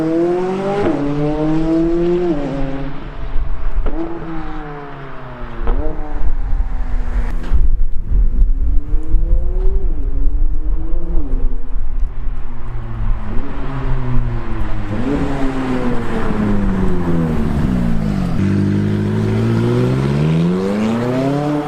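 McLaren 570S sports car engine accelerating, a loud, close exhaust note that climbs through repeated gear pulls with rising and falling pitch sweeps, briefly easing off midway before building again.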